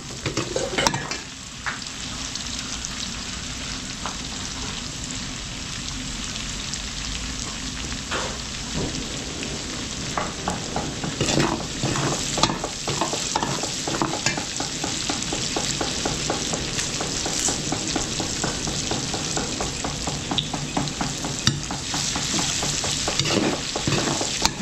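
Garlic, onion and chili fry in a restaurant wok for spicy wings, giving a steady, loud sizzle like heavy rain, broken by scraping stirs and metal clinks throughout.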